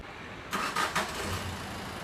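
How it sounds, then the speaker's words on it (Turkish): Car engine starting with a quick crank, then catching and revving lightly before settling into a steady idle, close by and fairly loud. "Hafif gaz verelim. Tamam, araba çalışabilir."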